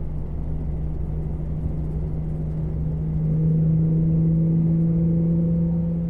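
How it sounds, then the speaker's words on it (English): Infiniti G35 exhaust fitted with stock headers, ISR test pipes and an HKS axle-back, a steady low idle drone that swells slightly and holds a richer, louder tone partway through, close and alone without any talk. "this exhaust combo really is pretty good"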